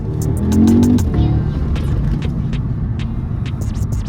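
A car engine sputters and rumbles while driving slowly in traffic, a close, steady low drone with uneven roughness and some faint clicks above, while people talk over it.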